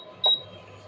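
A single short electronic beep from an induction cooktop being switched off after boiling milk, clear and close against a quiet kitchen background.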